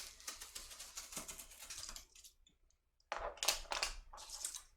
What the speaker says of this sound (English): we will just continue to cut these pieces of wood